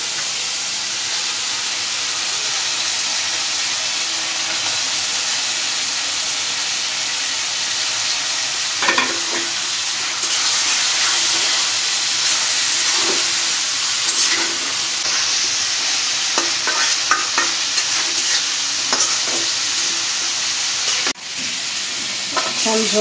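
Fish frying in a cooked-down spice masala, one of the dishes alongside giant freshwater prawns and bitter gourd in a katla fish curry, gives a steady close sizzle and hiss with occasional stirring scrapes and no talk.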